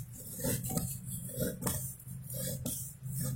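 A kitchen knife slicing through food at close range, with three crisp scraping strokes about a second apart over a low background hum and no voices.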